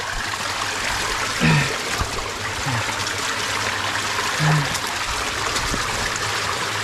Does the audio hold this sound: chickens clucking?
no